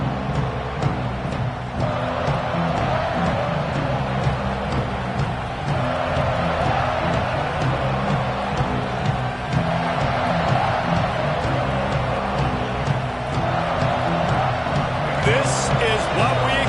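Steady roar of a stadium crowd at a Clemson college football game, a dense continuous wash of cheering that holds at an even level throughout, with a play-by-play commentator talking over it.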